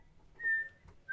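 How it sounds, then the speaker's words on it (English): A pet bird gives short, bright whistled notes, fairly close and clear, with brief pauses between them and no talking. "Stop whistling, do you?"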